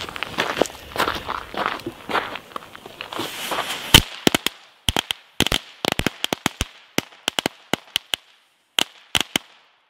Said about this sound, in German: 40er Matte Mini-Knaller, ich konnte es nicht lassen, die jetzt schon zu zünden